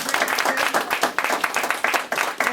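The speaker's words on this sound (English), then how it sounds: "Give her a round of applause." A press conference crowd applauds a community services administrator, loud, close, steady clapping from many hands with uneven rhythmic peaks throughout.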